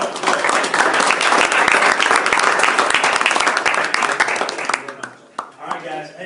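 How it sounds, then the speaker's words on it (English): An audience claps hard and steadily in a loud, dense burst that fills most of the stretch, then thins out and fades as a voice speaks near the end. "Hey guys, energy, clap it up."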